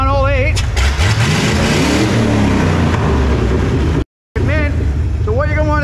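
A misfiring car engine runs with a rough, uneven idle while a voice talks over it, then a brief dropout before the engine noise returns.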